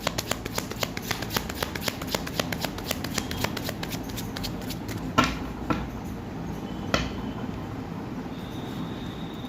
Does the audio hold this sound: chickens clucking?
no